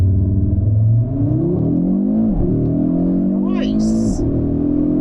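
A 2022 Audi RS3 sedan with a five-cylinder engine accelerating hard from standstill to 60 mph in RS performance mode, a loud droning engine note rising through the gears with brief dips at each shift, heard from inside the cabin.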